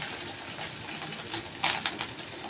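Fish roe fries in a pan with a continuous broad sizzle and hiss, with a couple of louder spattering bursts partway through.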